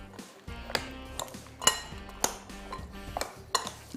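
Digestive biscuit ingredients mixed in a bowl, with repeated clinks and taps of a utensil against the dish at an irregular rhythm, close and fairly quiet, no talking.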